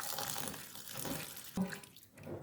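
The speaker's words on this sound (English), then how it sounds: "I fill it up with water." Tap water pours and splashes into a bowl of breadfruit (ukwa) seeds being washed, close and continuous, with a sharper gush partway through.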